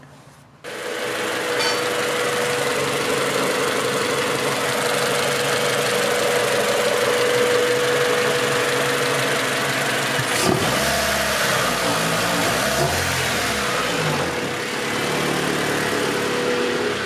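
A Honda Civic wagon engine with an OBD1 conversion cranks over, catches and runs steadily with a rough, knocking idle, revving up briefly partway through; loud and close with no talking.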